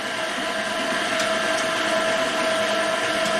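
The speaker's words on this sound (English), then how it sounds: "the first thing I'm going to do is grind the meat before anything else" An electric meat grinder hums steadily and loudly as it grinds meat for homemade Italian sausage, a continuous motor whine with no talk.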